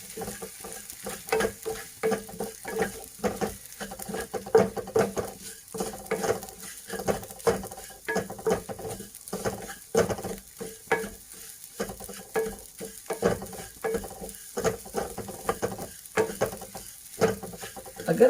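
Edible gum (gond) fries over a slow flame for dry fruit wheat laddu, crackling and popping in a busy, irregular patter, with frequent stirring scrapes through the oil, close and moderately loud.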